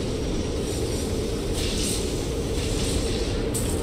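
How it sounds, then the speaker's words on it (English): A train rolls slowly through a level in the horror video game Poppy Playtime, giving a steady low rumble with brief brighter hissing swells, with no talk over it. "All I see is like a train slowly coming down."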